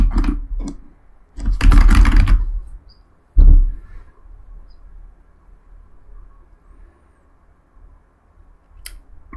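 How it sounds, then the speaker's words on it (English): Loud mechanical computer keyboard typing during a drawing stream: bursts of sharp clacking keystrokes, a dense flurry in the middle and a heavy thock, then quieter scattered taps over faint fan hum, no talking. "How loud is my fucking keyboard?"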